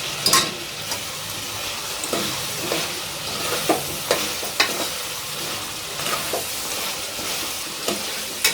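A spoon stirs chicken masala in a pot, giving repeated scraping, clinking strokes over a soft simmering sizzle, close and steady, with no voices.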